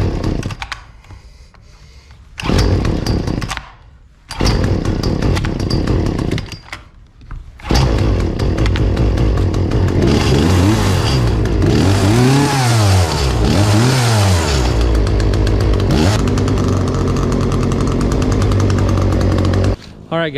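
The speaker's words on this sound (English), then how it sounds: "we're gonna test the chainsaw here in a second" A chainsaw with a new 16-inch chain starts with a few short pulls and bursts, then runs loudly, revving up and down repeatedly close by.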